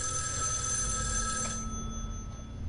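A telephone rings in the PS4 game Erica: a steady electronic trill with sharp tonal lines that carries on for about a second and a half, then fades as the ring stops, with no talk over it.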